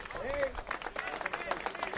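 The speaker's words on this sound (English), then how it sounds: "Gets an applause from the fans that have come and travelled to see this one." Travelling fans clap for a substituted player at an Australia Cup football match between Kingston City FC and FC Melbourne Srbija, with scattered applause under a commentator's voice.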